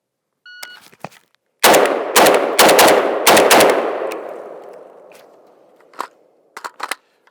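Rapid volley of loud Galil Ace rifle shots fired at targets on a range, four sharp close cracks in quick succession with echoing tails, preceded and followed by faint clicks and a few lighter reports.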